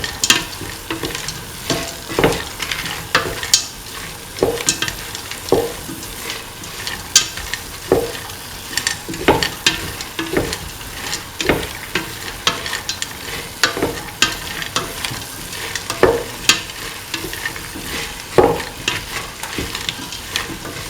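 Cauliflower pieces, green peas and tomatoes being stir-fried in a pan, with a steady sizzle under repeated sharp clacks and scrapes of a spoon tossing the vegetables at a quick, uneven rhythm, close and without talk.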